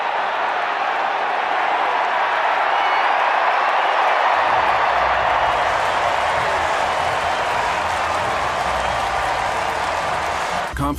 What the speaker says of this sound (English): the crowd loses its mind